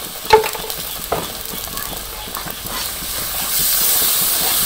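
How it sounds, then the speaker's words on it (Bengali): Ground spice paste with salt, turmeric, green chili and dry chili powder frying in a pan, a few sharp clinks of a spatula over a crackling sizzle that swells into a loud steady hiss. "ভালো করে কষিয়ে নিই"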